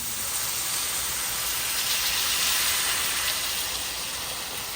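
A roast sears in a hot pan on a stovetop set to medium-high heat, giving a continuous, even sizzling hiss that holds steady throughout with no voices.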